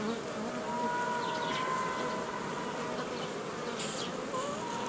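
Dense, steady buzzing of a honeybee colony right at the hive, a continuous droning hum that holds level for the whole stretch with no talk over it.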